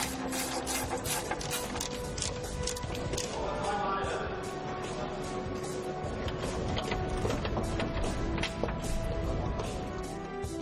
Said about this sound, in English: When they're certain everything is perfectly lined up, they bolt the car together.